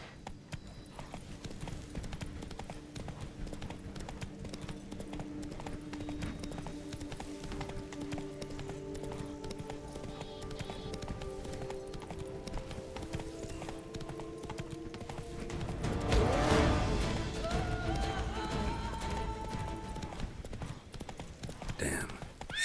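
Roach the horse gallops in The Witcher 3: Blood and Wine, hooves clip-clopping in a fast, steady rhythm with a louder burst near the end, under game music and occasional speech.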